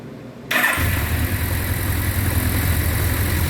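A Suzuki GS1100 L motorcycle engine cranks and fires after half a second of quiet, then settles into a loud, steady, throbbing idle close to the microphone.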